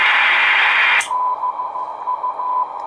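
A homebrew 80/40m SSB receiver hisses with loud atmospheric static, which abruptly drops to a quieter, narrower hiss when the bandwidth is cut, leaving a faint steady tone over low noise.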